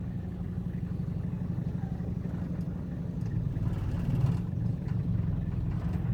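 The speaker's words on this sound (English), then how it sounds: "I'm gonna pull it forward just a little bit, pull the truck forward," A pickup truck's engine idles and rumbles steadily as it creeps forward to line up with a trailer hitch, a close, even low-pitched drone with a slight rise in effort near the end.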